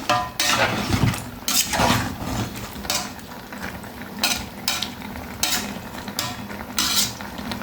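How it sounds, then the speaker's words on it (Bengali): Khichuri being stirred and turned over in a pot, a spoon scraping and clattering against the metal in repeated strokes over a soft sizzle, close and fairly loud, with no talking. "এবার আমি লাড়াচাড়া করে দিলাম নেড়ে উল্টিয়ে পাল্টিয়ে দিলাম"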